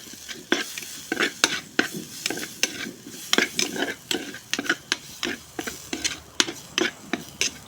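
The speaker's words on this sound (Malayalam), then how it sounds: "കറിവേപ്പില ഒന്ന് മിക്സ് ചെയ്യാം" Curry leaves with a pinch of turmeric sizzling in a pan for onion rice, stirred with sharp, repeated scrapes and clinks of a spoon against metal, close and fairly loud, no talking.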